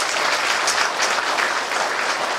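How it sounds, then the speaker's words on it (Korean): Warm applause from a crowd at a book launch gathering: a short, full burst of many hands clapping together, steady and fairly loud for its whole length. "뜨거운 박수 좀 부탁드립니다"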